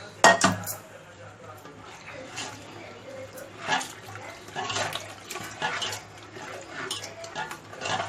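Semolina and milk stirred together in a pot for a Konkani sandan, with intermittent metallic scraping and clinks of a spoon against the vessel, some sharp knocks early on and quiet talk in the background.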